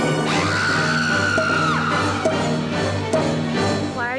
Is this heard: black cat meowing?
no